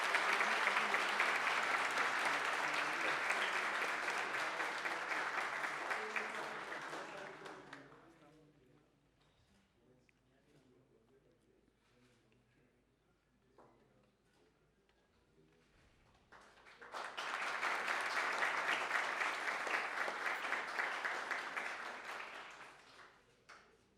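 Audience at a Colombian government cabinet swearing-in ceremony breaks into loud, dense applause that fades out, followed by a quiet stretch with faint sounds, then a second strong burst of clapping rises again.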